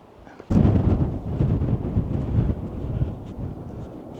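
Strong wind gusting across a high rock at Bell Rock in Sedona, buffeting the microphone with a loud, low rumbling roar that surges and eases without pause.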